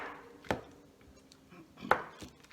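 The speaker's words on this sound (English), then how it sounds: "And Arisha, could you chop up the butter and then we'll add it?" Faint, sparse knife chops on a cutting board, a few quiet thuds of butter being cut into cubes with gaps between strokes.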